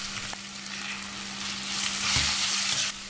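Turmeric powder, green chilies and grated raw mango are sautéed with dal in a hot pan, giving a steady close sizzle with stirring scrapes that swell louder partway through.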